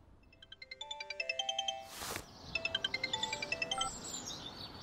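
A mobile phone ringtone chirps in a radio drama, a rapid trilling melody of repeated electronic tones, broken briefly by a rustling burst before the ringing resumes, fairly quiet and close.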